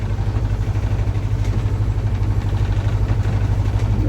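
A sailboat's engine runs steadily at a low idle-like throb while under way, a continuous droning hum with slight vibration and no pauses.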